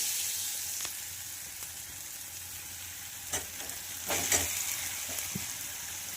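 Mashed potato filling for bread vada stirred in a pan, a low sizzle under scattered scraping and tapping strokes of a spoon, with a few louder knocks near the middle; no talk.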